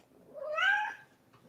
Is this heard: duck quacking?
no